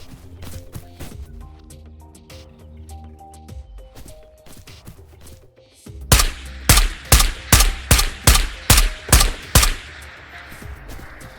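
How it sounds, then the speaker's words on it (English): Gunfire in the video game Ghost of Tabor: after a stretch of softer scattered shots and clatter, a run of about ten loud, evenly spaced rifle shots rings out close, each followed by a short tail. "That is shots from over there"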